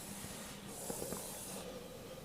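An airbrush sprays golden acrylic paint thinned to a smooth consistency, giving a steady, soft, close hiss that runs through the whole stretch with a few faint clicks.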